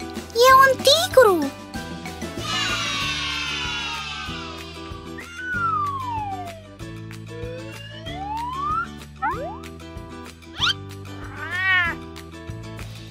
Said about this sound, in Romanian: E o pisică!